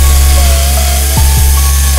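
Loud, steady whine of a power tool cutting into the high-strength steel floor panel of a Civic chassis, close and continuous with a couple of brief dips in pitch as the blade bites.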